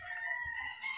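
A brood cock rooster at a game farm crows in a sustained, loud, nearby call lasting about a second, with no talk over it.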